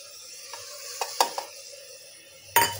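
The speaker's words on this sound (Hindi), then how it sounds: "अभी मैं अपने स्पाइसेस भी ऐड कर दे रही हूँ।" A spoon stirs spices into red lentil dal with eggplant in a pan, with a few sharp metallic clinks and scrapes against a faint sizzle, then a louder clatter near the end.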